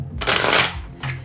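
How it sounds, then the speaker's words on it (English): A tarot card deck is shuffled in a short riffle, a quick papery flutter followed by a softer second burst, close and fairly quiet. "Feeling 3 more shuffles from this deck."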